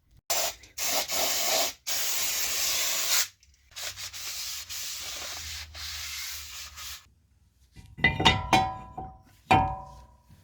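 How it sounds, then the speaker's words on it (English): Brake cleaner is sprayed onto a new brake disc in several sharp hissing bursts of varying length, followed by a few metallic clinks and knocks near the end, quiet and close with no talk. "before you put it on you have to clean it with brake cleaner"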